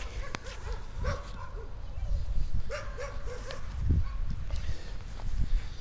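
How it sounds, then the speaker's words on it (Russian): A dog whimpers and whines in short, repeated high-pitched cries over a noisy background, with occasional low thumps. "Умирающая собака."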